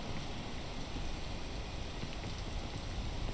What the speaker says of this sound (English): You slip in the rain.